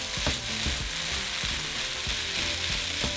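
Ground beef filling for beef and cheese chimichangas is stirred in a frying pan, a dense, close sizzle broken by repeated scraping and clanking strokes of the utensil, with no voices.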